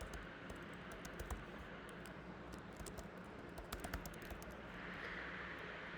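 Light, scattered keyboard taps while form details are typed in, faint and irregular over a steady background hum, with no voices.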